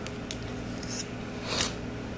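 Scissors snip through crochet yarn, a few faint, close clicks with one brighter cut near the end, against quiet room noise.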